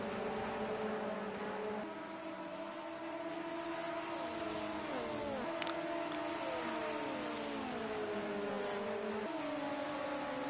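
Several LMP2 race car engines in a video game race whine and shift pitch together, rising and dropping as gears change, a continuous layered drone at moderate level with no voices.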